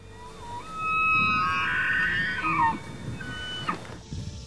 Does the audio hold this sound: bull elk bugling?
yes